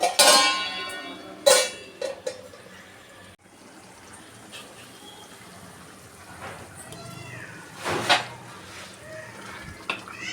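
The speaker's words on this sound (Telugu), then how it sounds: "ఇప్పుడు మూత పెట్టేయండి" Metal lid set onto a pot of prawn, drumstick and egg curry with tomatoes, giving a couple of brief, sharp clanks spaced apart over a quiet kitchen background.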